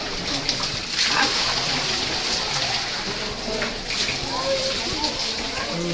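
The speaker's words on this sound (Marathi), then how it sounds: "ऑटोमॅटिक झऱ्याचं पाणी आहे" Natural spring water at the Rajapur Ganga pilgrimage site in Konkan flows and splashes steadily, a continuous close wash of water with murmured voices mixed in.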